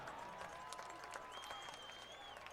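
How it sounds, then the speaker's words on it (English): Home fans at a high school homecoming football game cheer and clap in a soft, distant wash of crowd noise, with a faint whistle tone midway. "Fans having something to cheer about"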